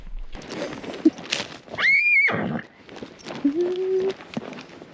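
A horse whinnies loudly, then another softer neigh follows, with hooves and movement audible around them by a creek on a Wyoming trail outdoors.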